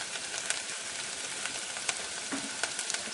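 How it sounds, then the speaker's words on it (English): Garlic and chopped thyme stirred in a pot of creamy pumpkin soup: a steady low sizzle with soft scraping sweeps and a few brief clinks, close and fairly quiet, with no talking. "Give it a quick stir."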